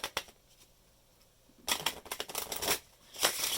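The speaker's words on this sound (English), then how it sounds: "So let's say I give it a quick shuffle like this." Playing cards are shuffled quickly in two short riffling bursts separated by a pause, close and crisp.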